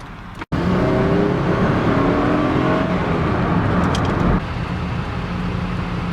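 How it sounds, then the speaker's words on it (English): A turbocharged Volvo engine with VTEC drones loudly at steady high revs from inside the cabin, then eases off; no talking. "Plus then you can hear the VTEC."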